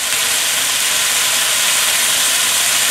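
Soy sauce sizzles loudly and steadily in a hot pan of ginger garlic chicken, a continuous close hiss with no pauses or voices.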